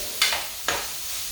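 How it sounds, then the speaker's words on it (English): Spaghetti and browned sausage frying in a covered pan being stirred, giving two short scraping, sizzling bursts over a steady low hiss. "stir that, and then put the top back on it, and let it do its thing while the pasta cooks"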